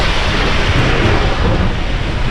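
Rumbling thunder rolls through a thunderstorm during a scooter ride, a dense, loud, continuous roar with rain-like hiss filling the background for a couple of seconds.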